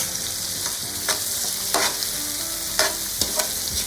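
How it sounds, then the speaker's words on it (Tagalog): Onions sautéing with softened tomatoes in a pan for Bicol Express with bitter melon: a steady close sizzle broken by several scraping stirs, with no talk. "Igisira natin ang sibuyas."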